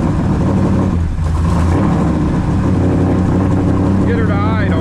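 A cold car engine revs as the gas pedal is pumped, its loud, steady drone rising and falling in pitch close by.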